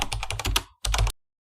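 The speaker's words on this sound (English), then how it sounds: "The easiest way is by pressing F2 on your keyboard after selecting the file." Keys tapped on a computer keyboard while renaming a file in Windows 11, a quick run of close, crisp clicks, a brief pause, then a few more, ending in silence.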